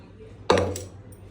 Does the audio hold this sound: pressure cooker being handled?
yes